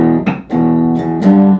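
Electric guitar played through a clean tone in an effects-pedal demonstration, a short riff of three or four ringing chords struck close and loud, each attack followed by a brief sustain.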